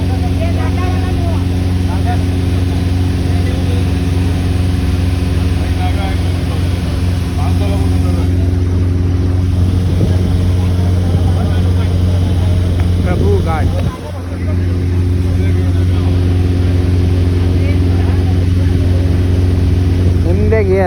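A motorboat engine drones steadily and loudly throughout on a river at Varanasi, with a low, constant hum and faint voices under it.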